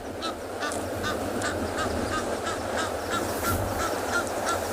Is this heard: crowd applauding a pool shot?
no